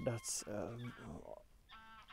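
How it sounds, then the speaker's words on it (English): Geese by a lake honk in a few loud, nasal calls close by, followed by fainter honks, with someone speaking briefly over them. "some geese, I do believe"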